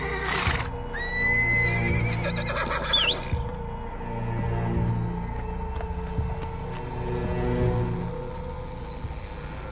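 A frightened, prized mare neighs and whinnies loudly several times, close by. Hooves clip-clop on and off underneath.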